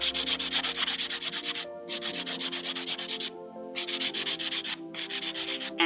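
Nail file rasps rapidly back and forth across a fingernail's top surface, close rhythmic scratchy strokes in quick bursts separated by brief pauses, with no voices.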